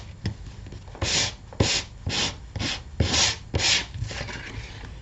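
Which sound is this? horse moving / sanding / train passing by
sanding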